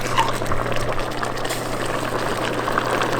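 Collard greens go into a pot of simmering meat seasoned with bay leaves, giving a steady watery bubbling and hiss that continues without any talking.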